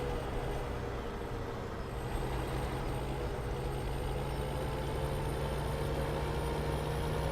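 A truck engine in Farming Simulator 17 rumbles steadily at a distance, a low continuous drone with a faint high whine, no voices.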